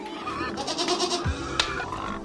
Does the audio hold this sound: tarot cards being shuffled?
no